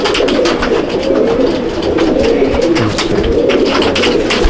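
Many pigeons coo together in a crowded loft of same-bloodline birds at Mominpur, a dense, steady murmur of overlapping low burbling calls close by, with no talk.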